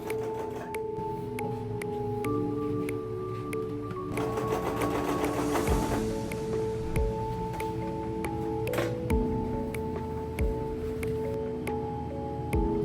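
A sewing machine stitches around the edge of a fabric slip cover. Its fast, steady mechanical hum and needle tapping run continuously at close range, with slight shifts in pitch and no voices.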